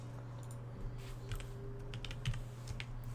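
Computer keyboard typed with one arm, scattered clicks and short bursts of keystrokes, close and fairly quiet over a low steady hum, with no talking.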